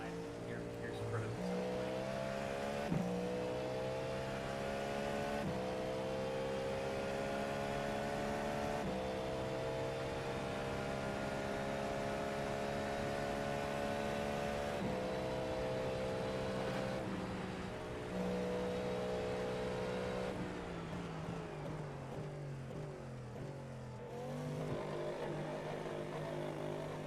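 Race car engines drone steadily through a long iRacing endurance run at Daytona, with layered harmonic tones shifting in pitch as cars close in, under intermittent talk.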